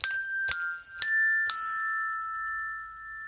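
Fuzeau tuned bells sounded by pressing down on them, four bright metallic strikes about half a second apart, each ringing on with a clear sustained tone that overlaps into a long shimmering decay, close and alone.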